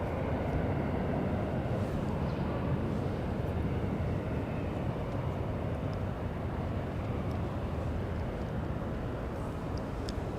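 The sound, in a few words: Boeing 767 airliner departing, heading to JFK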